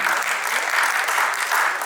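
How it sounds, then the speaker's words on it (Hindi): Loud, dense applause from the audience at a Maithili stage play, a steady wash of many hands clapping together with no break. "जोरदार तालियां होनी चाहिए।"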